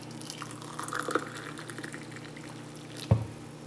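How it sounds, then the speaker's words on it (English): Water is poured quietly into a vessel for making tea, giving soft trickling and dripping sounds with a small splash near the end, faint and close with no talking. "Just pour some water in there."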